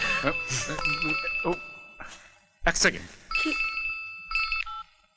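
A telephone rings in bursts, several electronic trills spaced apart, in a scene from the Bengali film Neel Aakasher Chandni, with people talking in between the rings.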